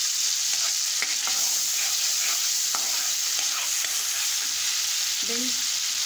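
Lemon vermicelli cooking in a pan with lemon juice and turmeric, a steady close sizzle and bubbling with a few soft stirring scrapes throughout.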